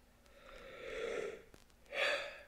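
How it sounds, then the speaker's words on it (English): A person yawning up close, two drawn-out breathy exhalations, the second one stronger and more strained, with no talking. "first off, I'm yawning."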